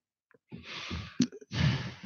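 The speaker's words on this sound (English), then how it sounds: "Why the heavy breathing" Heavy breathing is heard close to a microphone in a radio show setting: a few quick gasping inhales and snorting exhales in short bursts, loud and breathy, with no speech.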